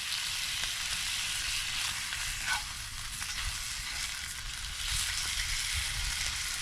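Bacon sizzles and crackles steadily in a pan over an open campfire at a shelter, a close, continuous fry with small pops.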